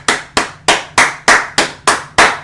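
Eight sharp, evenly spaced hand claps ring out loud and close, one roughly every third of a second, with no voices over them.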